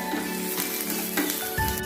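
Chopped garlic fries in a little oil for egg fried rice, a soft, close, steady sizzle with a few faint clicks and a short thump near the end.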